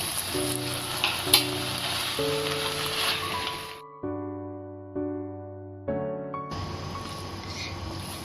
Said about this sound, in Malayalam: എന്നിട്ടൊന്ന് പതുക്കി മിക്സ് ചെയ്ത് കൊടുക്കുക.